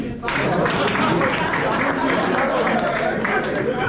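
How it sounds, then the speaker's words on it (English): A large audience at a leadership event applauds, a steady, dense wash of clapping and crowd noise filling the room nearly throughout, loud and continuous after a brief quieter start. "Clap for me."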